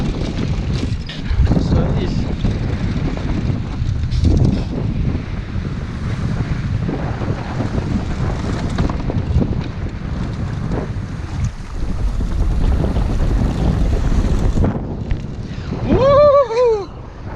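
Strong wind buffets a small 16-foot sailboat at sea in a steady, loud rush, with water and waves churning beneath it. Someone speaks briefly near the end.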